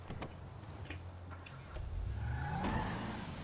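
A police car in the video game GTA 5 pulls out of a garage, its engine rising from idle to a revving acceleration, moderately close.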